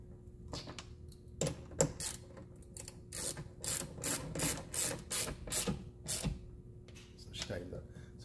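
A socket ratchet tightens a roll bar bracket bolt on a four-door Ford Bronco during a headliner installation, with rapid close clicking bursts of the pawl repeating across the span.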